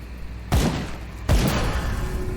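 Two loud shotgun blasts from the video game Grim Dawn, each a sharp boom with a decaying tail, spaced under a second apart over steady game ambience, with no talk.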